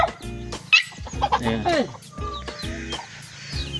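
Chicken clucking close by at a rural Philippine home, a rapid series of short clucks and squawks, with a person talking briefly over it.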